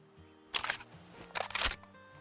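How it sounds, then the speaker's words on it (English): A rifle bolt being worked in Way of the Hunter: two short, close mechanical clacks about a second apart, the second one rattling slightly longer, with no other sound between them. "Listen to the bolt."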